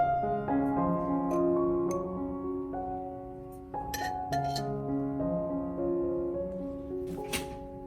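Bright glassy clinks ring out repeatedly as a metal spoon taps against a glass jar holding ground coffee and tangerine peel, with sustained tones lingering between strikes, close and clear.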